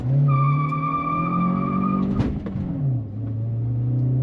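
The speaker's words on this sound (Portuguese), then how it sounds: "Cantando tudo de pneu, né? Porque a gente quer uma aceleração mais brava possível." A Volkswagen Saveiro Extreme with manual gearbox launches hard, engine revving high and tyres squealing loudly as it pulls away, then a gear change and a steady climbing engine note, close and loud.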